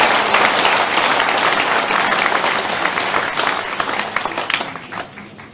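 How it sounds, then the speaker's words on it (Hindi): A crowd at a BJP office event in Bhopal claps in welcome, loud dense applause that runs steadily before thinning into scattered individual claps near the end, with no talk over it. "दोनों हाथों को उठा के तालियां बजा के स्वागत कीजिए, अभिनंदन कीजिए"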